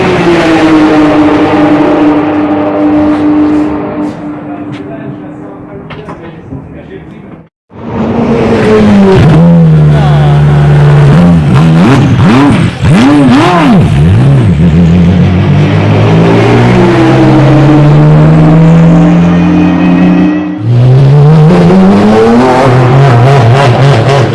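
Porsche 991 GT3 R race car on the Dijon-Prenois circuit, its engine roaring loud and close with rising and falling revs through gear changes, a brief cut near the middle, then howling on at full throttle.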